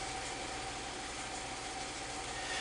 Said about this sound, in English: I'm going to put it in gear because I think it misfires a little bit more when it's in gear and kind of under a load.